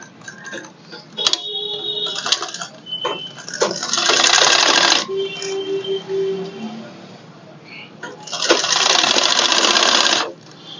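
A sewing machine stitches a collar onto a suit in short loud bursts with pauses between, while a person talks quietly at close range.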